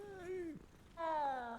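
A cat meows twice in a Hogwarts video game, two clear, close tonal cries separated by a short pause, the second higher and longer than the first.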